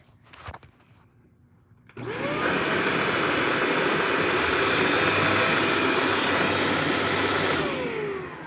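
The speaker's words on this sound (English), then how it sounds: "Let's vacuum that up real quick." A Shark Lift-Away vacuum cleaner with a dust-clogged filter switches on after a couple of seconds of quiet and runs loudly and steadily with a broad whooshing roar until the end.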